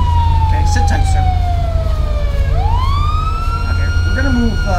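A police car siren in the LSPDFR police video game wails loudly and close, a long falling tone that sweeps back up into a new rising cycle over a steady engine rumble.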